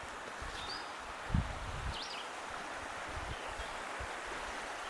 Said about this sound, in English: you can pick up the sounds of the stream now, or the creek